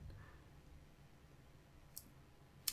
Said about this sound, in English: And now I'm gonna try running it in Tableau and click this button.